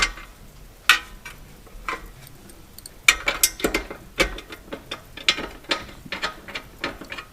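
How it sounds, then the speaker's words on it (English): Ratchet driving bolts down into a micro service car frame, close rapid clicking in uneven bursts with metallic taps between, loud and alone without speech. "So I'm going to screw this down."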